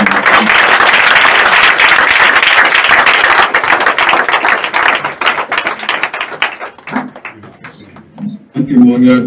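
A church congregation claps and applauds to acclaim the Lord, dense and loud for about six seconds, then thinning into scattered claps, with voices present throughout.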